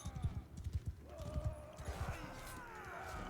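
Horse hooves clip-clop in Mount & Blade 2: Bannerlord, a rapid, uneven string of close, thudding beats that gives way to creaking and a general battle wash, with no one talking over it.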